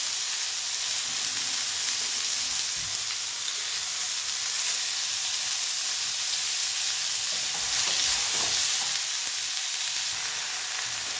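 Peas, tomatoes and ginger-garlic paste fry in a pan, giving a continuous loud sizzle with a dense crackling hiss that swells slightly midway, heard alone and up close.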